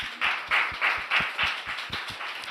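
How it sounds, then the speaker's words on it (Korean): Rhythmic clapping during a Wednesday women's worship service at a church, about ten evenly spaced claps in a steady beat, fairly close and moderately loud. "주님께 영광의 박수 올려드립니다"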